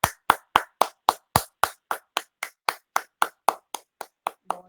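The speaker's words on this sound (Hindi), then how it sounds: "कल्पना जी के लिए बहुत जोरदार तालियां हो जाए एक बार पूरे सत्र की तरफ से।" Hands clap at the close of a yoga class, about eighteen crisp, evenly spaced claps in a steady rhythm, near and clear, with no voices over them.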